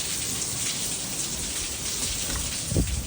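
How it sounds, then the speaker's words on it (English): Very heavy rain falls during a severe thunderstorm in Lubbock, a steady close hiss of drops on surfaces with a brief low thump near the end, no voices. "it's just really heavy rain."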